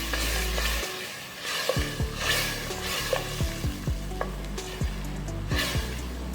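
Mutton trotters roasting in a pan with turmeric and salt, stirred steadily so a spoon scrapes repeatedly through a constant, loud sizzle with no one talking.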